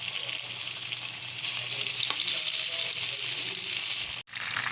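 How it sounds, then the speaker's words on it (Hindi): Masala fish frying in hot oil in a dhaba-style pan, a close, continuous hiss and crackle that swells slightly midway, then breaks with a brief clatter near the end. "ऑयल हमारा गरम है, इसमें मैं ये फ़िश ऐड कर रही हूँ।"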